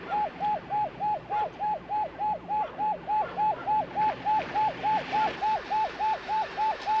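An ambulance siren wails in a steady, rapidly repeating two-tone pattern, loud and continuous, as it arrives outside a house before dawn, with low vehicle rumble underneath.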